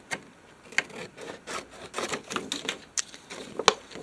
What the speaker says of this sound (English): I'm going to cut the excess off.